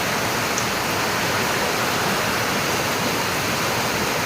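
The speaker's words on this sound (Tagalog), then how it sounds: "napakalakas ng ulan" Heavy rain roars in a dense, steady wash of noise, constant and loud throughout with no pauses.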